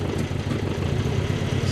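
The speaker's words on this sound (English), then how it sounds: "Starts up okay, Tasha." A 1961 Triumph TR3A engine idles steadily just after starting up, a low, even rumble with a regular pulsing beat that stays close and constant.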